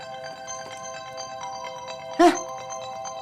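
A mobile phone ringtone chimes in a home kitchen as a steady, looping electronic melody that carries through the whole stretch, with a brief louder clatter near the end.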